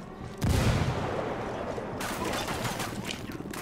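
Dense gunfire in a video game erupts abruptly, a sustained loud barrage of overlapping shots with a second wave of bright crackling bursts, with no speech over it.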